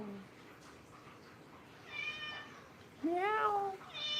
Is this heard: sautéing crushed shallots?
no